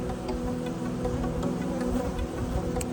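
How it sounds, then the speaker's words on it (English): Honey bees fly in and out of a spring beehive, making a soft, steady buzzing drone that carries on throughout at low volume with no talk. "there's a lot of bees going in and out of the"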